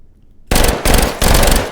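A Glock pistol fires in the VR shooter H3VR: three loud, close, sharp shots spaced roughly a third of a second apart, with no talking.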